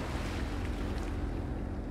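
Car sinking into water in Farming Simulator 22, a Bentley Continental GT mod, giving a steady, dense watery rush with low rumble throughout, like churning water and wind, with no talk.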